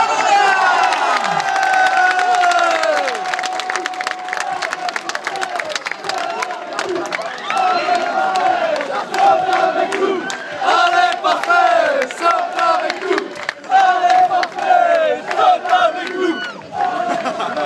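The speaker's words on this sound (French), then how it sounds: "Les applaudissements pour Parfait Mamouna." Fans at a football club's open-day event cheer for a goalkeeper, an excited crowd of shouting, whooping voices, including children, rising and falling in bursts, with scattered clapping beneath and occasional raised voices near the front.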